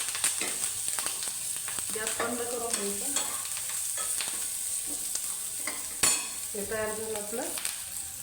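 Ingredients for a paratha filling lightly roast in a pan, a soft continuous sizzle under repeated scraping stirs of a spatula, with a sharp clink near the end; a voice speaks faintly at moments.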